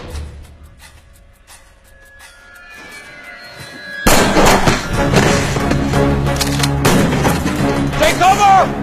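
Dense, loud gunfire bursts out suddenly in a war scene after a quieter stretch, a rapid mix of shots and booms that continues to the end.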